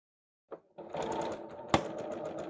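A sewing machine stitches a qaspeq vest, starting after a brief bump with a steady mechanical hum and one sharp click partway through, close and alone.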